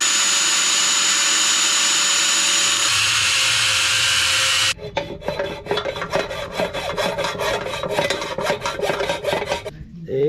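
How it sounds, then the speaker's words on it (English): An angle grinder with a cutoff wheel cuts metal on a DeLorean, first a sustained loud whining grind, then an abrupt switch to rapid rhythmic rasping strokes continuing close by. "using a cutoff wheel on a grinder will only get you so far"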